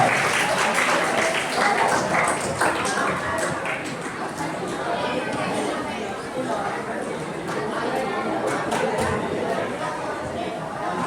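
A school class of students claps for a classmate called to the front, a busy, steady patter of many hands mixed with loose chatter throughout.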